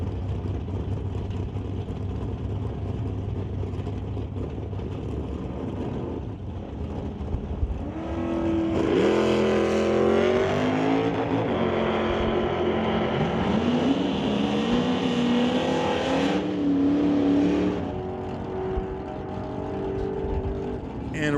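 A 2009 Dodge Challenger and a 1973 Chevy Nova launching down a drag strip, engines roaring up loud and rising through gear changes, with crowd and announcer noise faintly behind before the roar fades.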